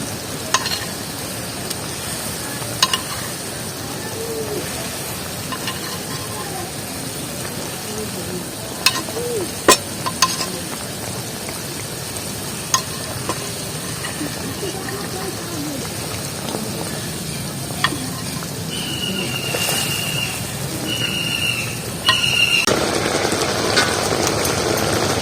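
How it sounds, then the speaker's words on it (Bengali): Brinjal pieces dropped one by one into simmering mustard gravy in a pan, a steady soft bubbling sizzle with scattered clicks and taps throughout, getting louder near the end. "এবার একটা করে বেগুন দিয়ে দেবো।"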